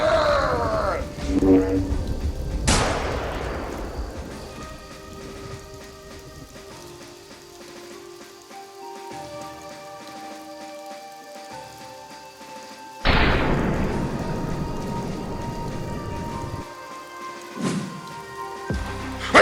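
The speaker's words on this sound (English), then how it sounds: "it's raining. It's always raining. Always raining in this game." Steady rain falls across a game landscape in theHunter Call of the Wild, a constant soft hiss broken by two loud rumbling thunder-like booms, with someone talking faintly at times.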